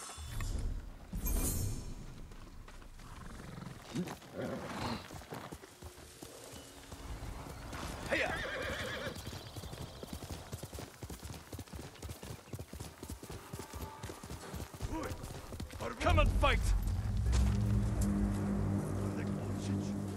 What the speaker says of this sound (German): Ist immer schön, wie mein Pferd so brav weggeht.